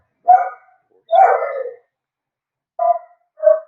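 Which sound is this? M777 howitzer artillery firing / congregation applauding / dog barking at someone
dog barking at someone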